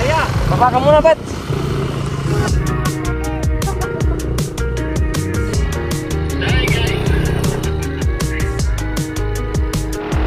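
A scooter's engine runs steadily while it rides a rough trail at a campsite near a lake, a continuous loud motor drone with bumpy rattles and people talking over it.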